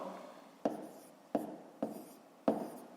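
Pen strokes on paper during a fifth-grade maths exercise, four short scratchy taps spaced about half a second to a second apart over a quiet room background, close and soft, with no talking.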